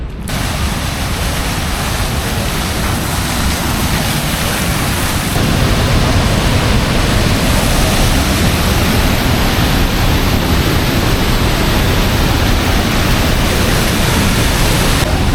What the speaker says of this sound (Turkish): Şurada küçük bir şelale var öyle dere kenarında